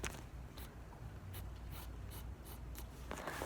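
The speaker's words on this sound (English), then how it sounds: "so I don't know if y'all can even hear the pencil" A pencil scratches across paper while drawing on a rainy day, soft close-up strokes in quick irregular bursts over a steady hiss, with no talking.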